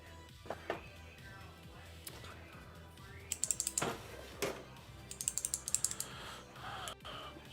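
Quiet clicking keystrokes on a Geon F1-8X v2 custom mechanical keyboard come in uneven bursts, with some faint background noise.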